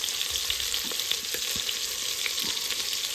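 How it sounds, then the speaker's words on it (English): Seasoned beef browning in a pot, a steady sizzle and crackle throughout with a few soft stirring clinks, fairly close and without talk. "we just wait for it to finish browning"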